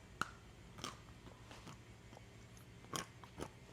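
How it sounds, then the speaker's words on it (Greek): Crisp crunches as someone bites into toasted almonds for a semolina halva with orange syrup, a handful of sharp, close snaps spaced irregularly over quiet background, with softer chewing between them. "Το αμυγδαλάκι το καβούρδισα και είναι πολύ τραγανό."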